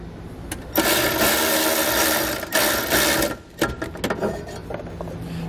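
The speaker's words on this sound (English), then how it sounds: "then I'll tighten it down using that socket" A socket driver tightens a ground bolt over a wire's ring terminal during trailer wiring work on a 2017 Infiniti, with one sustained whirring burst of about two and a half seconds, then shorter bursts and sharp clicks.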